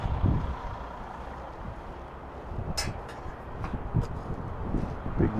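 A 1990s Freightliner FLD Classic truck at an auction runs with a low, rumbling engine that stays steady throughout, with a few sharp clanks and hisses over the top.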